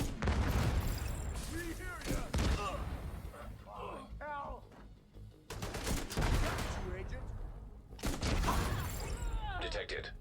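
Gunfire in The Division 2, sustained bursts and rapid shots in clustered volleys with brief gaps, loud and close, mixed with game effects while a player talks over it.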